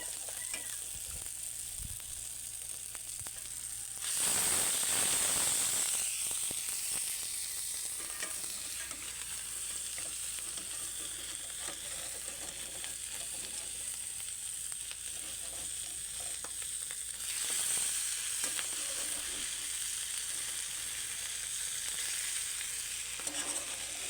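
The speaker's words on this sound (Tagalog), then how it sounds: "Lagay na natin yung ating karne." Pork for kaldereta frying in a pan, a loud, close, continuous sizzle that surges sharply twice as more meat hits the hot oil or is stirred, with no talking.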